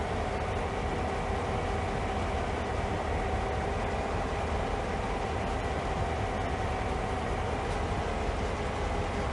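A CSX heavy haul freight train rolls forward at low speed in Train Sim World on the NEC New York line, giving a continuous broadband rumble and hiss with no breaks and no voices.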